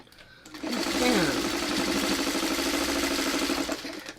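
A home sewing machine runs steadily for about three seconds, stitching down the sashing strips of a quilt, loud and close with a steady mechanical whir that speeds up and then winds down.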